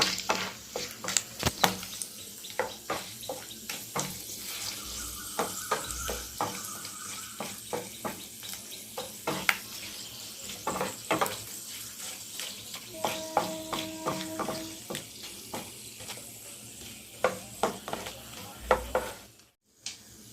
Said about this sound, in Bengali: লবঙ্গ দিলাম, একটু ভাজবো।